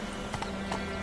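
Hooves of Roach, the horse in The Witcher 3, pound at a gallop with a soft rhythmic clatter, briefly and close, over a steady game background.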